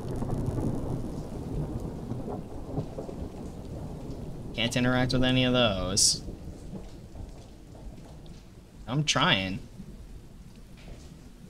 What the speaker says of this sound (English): Nice rain effects.